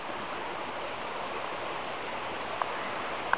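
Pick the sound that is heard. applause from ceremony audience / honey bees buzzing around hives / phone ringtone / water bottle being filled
water bottle being filled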